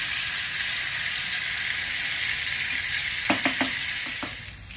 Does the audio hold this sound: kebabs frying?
yes